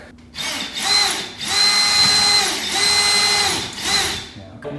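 Power drill boring a hole into a wooden wall stud while mounting a TV, running in several sustained whining bursts with short pauses between, loud and close.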